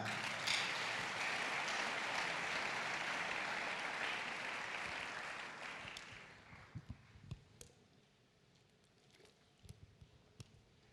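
A church congregation claps for several seconds, a dense, moderately loud applause that fades out, leaving scattered taps and shuffles in the room.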